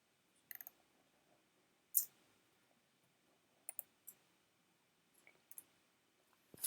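Sparse computer mouse clicks sound in a quiet room, about half a dozen short, sharp taps spaced irregularly, some in quick pairs.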